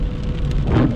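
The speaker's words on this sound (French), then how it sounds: "ça c'est de la pluie" Heavy rain falls during a November storm with sleet and snow nearby, a steady broadband wash close by that swells louder toward the end, with no voices.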